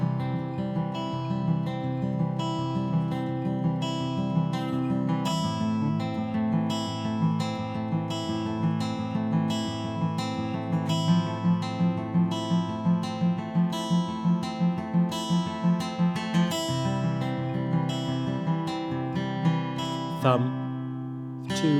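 A fast, steady fingerpicking pattern plucked on acoustic guitar strings, a continuous stream of evenly spaced notes over alternating bass, played alone without speech.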